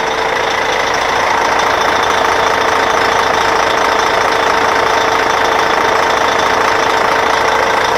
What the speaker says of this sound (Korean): 한번 엔진 소리 한번 들어보실래요?